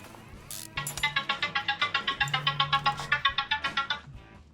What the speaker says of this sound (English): My phone never rings unless I'm recording.